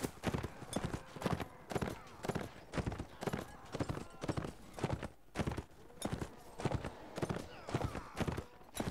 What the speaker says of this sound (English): It's a nice fast horse.